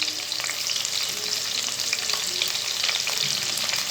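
Sliced onions with coriander leaves, green chillies and mint frying in a pan, a steady close sizzle with occasional stirring scrapes throughout, no voices.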